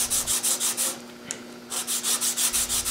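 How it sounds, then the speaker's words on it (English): Rhythmic back-and-forth sanding strokes on small wooden segments, steady and close, with a short pause in the middle before the rubbing resumes. "I continue sanding the remaining 18 segments until all the segments have been cleaned up"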